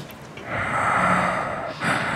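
Heavy, sensual-sounding breathing pushed close into a microphone during a live comedy show: a couple of long, loud breaths with a snort-like rush of air, the second starting near the end, with no talking.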